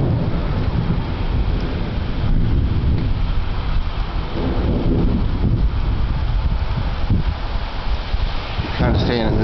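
Thunderstorm from a low-pressure tropical storm, with steady rain and wind buffeting the microphone under continuous rumbling, and someone talking over it throughout.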